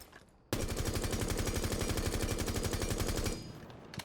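Sustained automatic fire from a video game gun, a rapid, even burst of loud shots lasting about three seconds before cutting off, with no talk.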